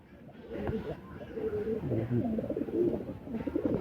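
Kasuri and Rampuri pigeons coo softly in low, warbling phrases close by, a few overlapping calls with a voice faintly mixed in.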